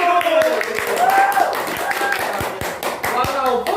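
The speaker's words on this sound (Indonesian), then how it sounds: "Tepuk tangan" A few people clap in a podcast studio, quick uneven hand claps close to the mic, mixed with voices talking and laughing over them.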